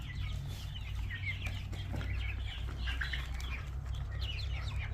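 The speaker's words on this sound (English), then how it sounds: "And the rooster is over here." Backyard chickens and a rooster make soft clucks and chirps over a steady low hum. The calls are faint and scattered, coming from mid-distance.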